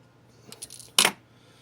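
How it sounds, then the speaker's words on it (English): Small wire snips clip off the excess wire on a micro plug: a faint metallic tick or two, then one crisp, louder snap close by, alone with no talk. "So now you just kind of trim off the excess"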